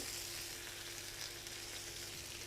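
Homemade peri peri chicken fries in a pan, a faint, even sizzle and crackle that holds steady throughout the short stretch with no voices.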